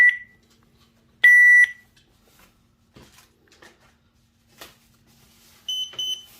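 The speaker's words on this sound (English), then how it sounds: "And we heard that that beeped there as well." Short electronic beeps from a Rok wireless alarm hub in pairing mode sound alone in a quiet room: one near the start, another after a pause, and a quick pair of fainter beeps near the end.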